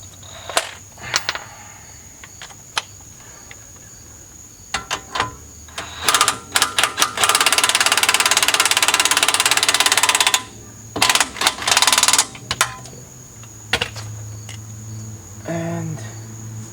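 An impact wrench on its low torque setting tightening a tie rod on a Volvo 850/S70/V70, a long buzzing rattle burst in the middle, flanked by short clicks and taps in a quiet garage.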